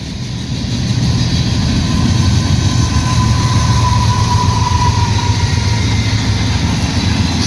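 A CSX freight train with a distributed power unit rolls past close by, a loud, continuous rumble of wheels and cars with a faint steady whine riding over it, no voices.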